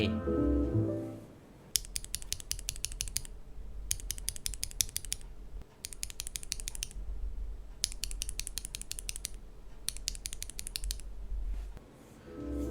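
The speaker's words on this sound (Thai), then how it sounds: "สวิชที่ใช้ north facing แล้วก็ south facing เนี่ยเสียงแตกต่างกันยังไง" Bursts of crisp mechanical keyboard typing comparing north- and south-facing switches, close and fairly quiet, come in several runs with short gaps over a faint low hum.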